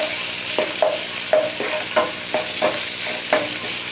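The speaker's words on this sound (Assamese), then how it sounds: "আৰু এতিয়া কাটি থোৱা পিঁয়াজখিনিও দি দিছোঁ একেলগে।" Chopped onions with whole cumin and panch phoron frying in hot oil, stirred with a spatula: a steady sizzle broken by rhythmic scraping strokes roughly every half second, close and clear with no talking.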